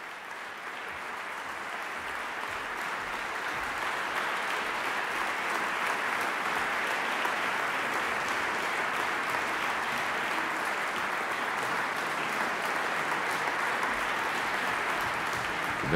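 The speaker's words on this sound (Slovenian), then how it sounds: "Aplavz za člane Simfoničnega orkestra, Radio Televizije Slovenija in Andreja Provotorova" Concert-hall audience applauds the Slovenian Radio Television Symphony Orchestra after Vivaldi's Four Seasons, a dense, sustained roar of clapping that swells early and holds loud and even for a long stretch.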